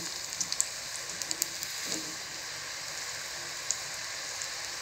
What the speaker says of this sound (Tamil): பாருங்க, நல்லா ஃப்ரை ஆகி வந்துட்டுருக்கு.